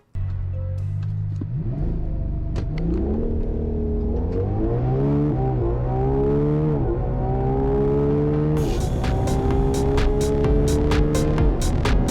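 A Ferrari's front-mounted naturally aspirated V12 engine revs up repeatedly, pitch climbing in stepped surges as it accelerates, loud and close throughout.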